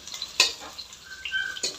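Onion frying in a pan with mustard seeds and curry leaves for a sambar tempering: a soft, steady sizzle broken by stirring scrapes and a couple of sharp metallic clinks, close and with no talking.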